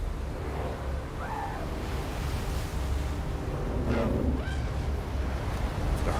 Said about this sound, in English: Now, the tide is coming in.